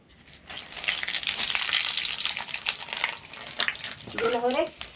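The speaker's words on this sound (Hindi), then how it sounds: "हमने छौंकने के लिए यहाँ पर जीरा और मेथी, सूखा मिर्चा और तेजपत्ता लिए हैं। अब डाल रहे हैं इस तेल में।" Cumin, fenugreek, dried chili and bay leaf hit hot oil for a tempering while cooking aloo gobi, giving a steady, close crackling sizzle that holds throughout, with a few louder pops near the end.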